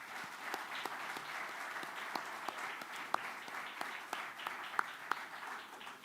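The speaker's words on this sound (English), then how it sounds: "How about just one round of applause for those who make this night what it is" A crowd at an athletic club awards night applauds the sponsors, a steady, fairly distant wash of clapping from a large room with a few sharper individual claps standing out.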